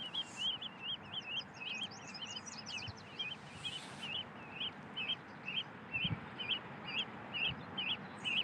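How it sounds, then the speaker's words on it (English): Ducks call at night on the Missouri River, a rapid series of short, regular quacking honks repeating steadily over a low river hiss, with a few higher chirps early on, moderately near and fairly faint. "I hear those ducks. Yep. Oh, they are ducks. I thought they were geese."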